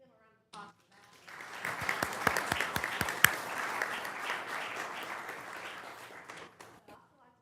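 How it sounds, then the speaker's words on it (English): A crowd at a county board meeting bursts into applause after a short pause, building into a steady wash of clapping with a few sharp near claps, then tapering off. "So let's give them a round of applause for that."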